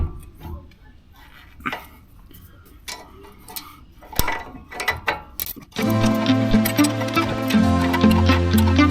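Wrench loosening the top nut of a sway bar on a 2023-plus Chevy Colorado ZR2 during a coilover install, quick ratcheting clicks and metallic ticks close by, followed by a louder, steadier mechanical whir toward the end.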